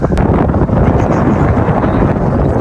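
Strong wind buffets the microphone in a constant low roar, loud and close throughout.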